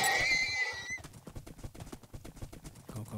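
A horse in the Minecraft Lord of the Rings mod gives a short high neigh at the start, followed by quick galloping hoofbeats and game combat clatter, close and fairly loud.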